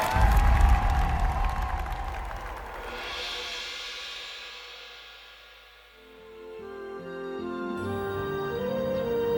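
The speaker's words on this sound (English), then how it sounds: "Big round of applause." Audience applause and cheering fill the room at a large meetup event, loud and dense at first, dipping midway, then swelling again as music rises underneath.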